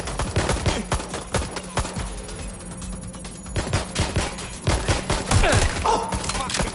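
Rapid gunfire crackles through a PS4 shooter game, dense irregular bursts of shots and thuds running nearly continuously at close, loud level with a brief lull in the middle.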